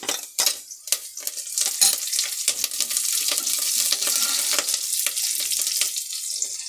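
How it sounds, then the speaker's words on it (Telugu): Curry leaves dropped into onions frying in oil for a black-eyed pea biryani: loud, close crackling and spitting with rapid pops, plus a light clink of utensils against the pan, with no voices. "ఇప్పుడు ఆనియన్ ఫ్రై అయింది, కరివేపాకు వేసుకుంటాం"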